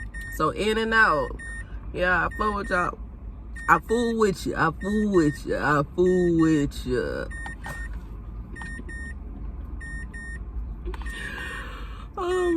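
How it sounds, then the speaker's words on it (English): A car's door-open warning chime repeats at a steady rhythm in the background, faint beneath a person's close, chatty speech and continuing alone after the talking stops. "I'm sorry for the beeping noise in the background, y'all. I did it with the car door open."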